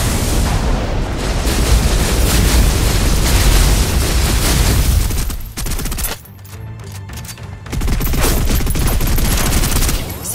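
Dense automatic gunfire rattles nonstop as suppressive fire in the shooter game Snowbreak: Containment Zone, loud and close, with a brief pause around the middle before the bursts resume.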